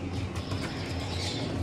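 Pet duff pigeons, a dove breed, give soft, low repeated coos close by with a faint steady background hum.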